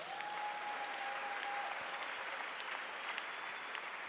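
A church congregation breaks into sustained applause to acclaim Jesus during a French-speaking sermon, a steady dense clapping that holds evenly for several seconds.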